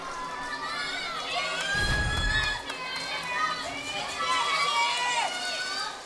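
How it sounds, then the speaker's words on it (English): Home crowd cheers and shouts at a Michigan vs. Michigan State NCAA women's gymnastics meet, a loud, sustained roar of many voices with a thumping burst partway through. "Home crowd likes it."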